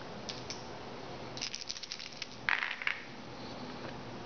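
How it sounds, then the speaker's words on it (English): Three dice rattle in a hand and clatter onto a tabletop during a wargame, a short burst of light plasticky clicks followed by a couple of sharper bounces, close and otherwise quiet. "So Carl is going to roll 3 dice"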